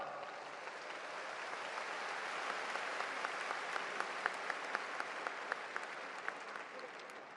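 Sustained applause from a large audience at a cultural festival gathering fills the hall steadily, a dense wash of clapping with no talk over it and a few sharper individual claps standing out toward the end.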